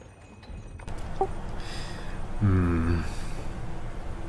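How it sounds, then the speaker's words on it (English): A horse-drawn carriage with hooves clacking on stones, a steady clip-clop rhythm over soft background rumble, with a short burst of louder hoof strikes midway. "the sound of the horse's hooves clacking against the stones"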